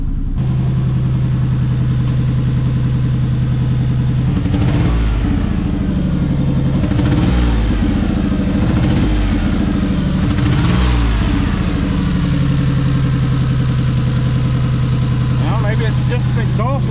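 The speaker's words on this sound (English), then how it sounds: "Got an exhaust leak." Lexus RX 300 engine with an exhaust leak, running in a country auto repair shop: a close, steady low idle rumble with several rougher, choppier bursts through the middle.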